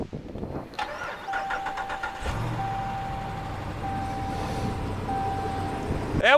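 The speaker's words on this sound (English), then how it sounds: "Yeah, that's a car coming." A car cranks and its engine catches outdoors on a windy beach, followed by a steady mid-pitched idle with a thin whining tone over gusty wind noise.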